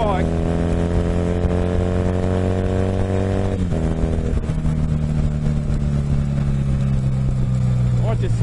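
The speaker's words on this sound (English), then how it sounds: "this bike's really good for zipping around, like around town." A motorcycle runs steadily nearby at a constant loud drone, with a brief shift in pitch partway through as it zips around town, while someone talks over the engine.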